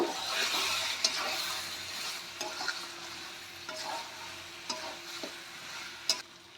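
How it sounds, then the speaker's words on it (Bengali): Coriander powder and spices being stirred into a Pakistani chicken curry in a pan, with soft sizzling under repeated scraping strokes of a spoon, quiet and close, no voices. "সবগুলো আমি ভালো করে মিশিয়ে নেব।"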